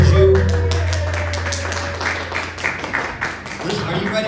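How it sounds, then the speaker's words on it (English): A church congregation applauds during a Sunday service, with a brief low hum at the start giving way to scattered, sharp claps that build into a loose round of applause before fading. "So give yourself a round of applause"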